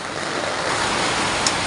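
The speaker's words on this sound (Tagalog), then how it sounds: "Matindi ang buhos ng ulan." Heavy typhoon rain from Typhoon Carina pours down steadily in the Philippines, a dense, loud, unbroken wash of hiss and roar with no pauses, heard alone without any voices.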